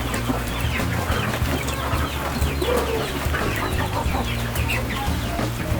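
Farm chickens cluck steadily in a dense, continuous chorus as they feed on a mash made from reject tomatoes, with occasional brief crowing amid the flock.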